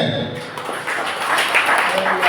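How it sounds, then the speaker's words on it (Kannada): Audience clapping at a Lenten spiritual retreat session inside the Sacred Heart of Jesus church, a dense wash of applause over about two seconds with voices mixed in. "ಚಪ್ಪಾಳೆ."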